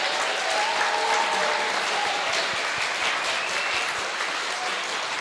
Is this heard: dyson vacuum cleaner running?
no